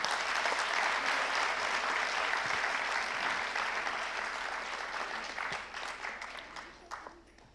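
An award ceremony audience applauds a woman honoree with dense, steady clapping that slowly thins and fades toward the end, leaving a few scattered claps.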